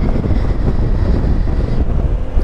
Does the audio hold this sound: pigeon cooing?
no